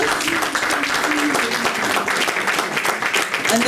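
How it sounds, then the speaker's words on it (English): A crowd at a Black History celebration held at a bookshop gives a dense, continuous round of applause as a guest is called up, with a few voices faintly audible beneath the clapping. "Round of applause."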